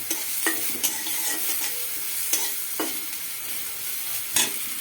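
Chopped onions frying in hot oil for tomato chutney, a steady loud sizzle with a few sharp scrapes of the spatula stirring them around the pan, and no talking.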